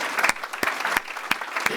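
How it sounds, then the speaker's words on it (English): Audience applause at a green-economy workforce panel event, a dense clatter of many hands with a few sharper individual claps standing out, loud and close. "So, round of applause for them."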